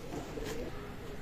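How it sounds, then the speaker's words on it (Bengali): A KTM pigeon gives one soft, low coo against a steady background hiss, close and fairly quiet. "এগুলো হচ্ছে কেটিএম কবুতর"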